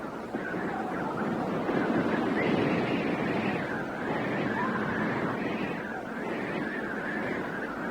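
Steady, loud wind roaring across the rocky summit of Mount Kinabalu in Borneo, a continuous blustery rush with gusting swells and buffeting against the microphone, no voices.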